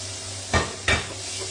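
Ingredients including chopped onion and a few cherry tomatoes tipped into half a cup of hot oil in a heated pan, giving two short sizzling bursts over a steady background hum, with no talking.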